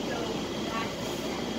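A steady rumbling hum of a moving train interior, constant and close, with no distinct breaks.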